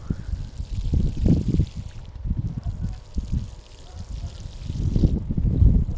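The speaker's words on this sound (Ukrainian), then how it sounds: "Далі ми беремо лійку і будемо поливати" Water from a garden watering can with a spray rose splashes and patters over newly planted cucumber rows, in uneven bursts of pouring with a brief lull in the middle, close by.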